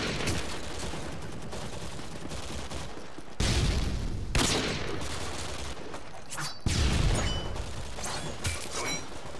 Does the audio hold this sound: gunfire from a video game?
yes